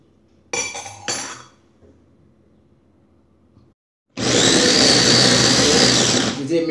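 Voices are heard briefly, followed by a pause, then a loud, close kitchen blender whirs steadily for a few seconds while blending fruit for kalyppo natural fruit juice.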